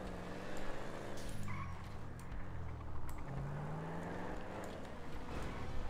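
Engine revving up on a car in GTA, sustained and fairly loud, with rising pitch sweeps and some tire noise across the whole stretch.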